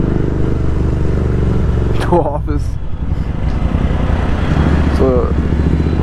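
Royal Enfield Continental GT motorcycle with a loud Thrive aftermarket exhaust rumbles steadily while riding through city traffic, a close continuous engine drone under a man's brief speech.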